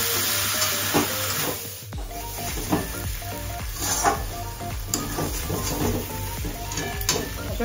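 Spices, tomato, garam masala and a bay leaf sizzling and frying in a pan, a steady hiss broken by scrapes and clinks of stirring every second or so, fairly close, with no talking.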